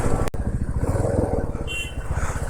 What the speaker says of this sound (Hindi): कुछ बाइकर्स की टीम अपनी निकली हुई है